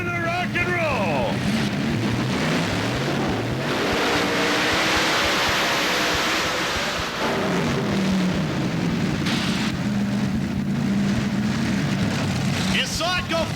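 A loud engine roars continuously on the Bandit pulling vehicle as it runs its sled pull at the Cow Palace, with pitch sweeping up and down. Commentary and crowd noise sit underneath throughout.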